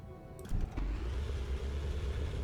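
A tank engine in the video game Sprocket runs at high RPM, a steady loud droning roar with a rising surge near the start and no talk over it.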